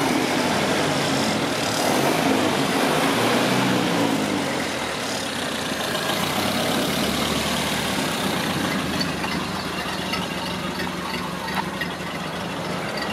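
A car engine idling steadily and smoothly at close range on fresh gas, a continuous low rumble that holds an even note throughout.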